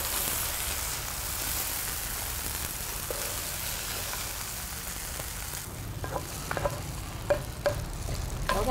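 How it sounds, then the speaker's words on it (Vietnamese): Chicken stir-fried with fish sauce in a pan, a steady loud sizzle running throughout, with occasional scraping and clinking of a utensil as the pieces are tossed near the end. "Chúng ta đảo cho gia vị mắm thấm đều vào gà."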